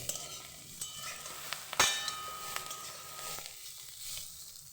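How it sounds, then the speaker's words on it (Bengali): Egg fries in a pan on a home stove and is stirred, giving a soft, steady sizzle with scraping strokes and one sharp utensil clink, fairly quiet and close. "ডিমটা ভাজা রেডি হয়ে গেছে"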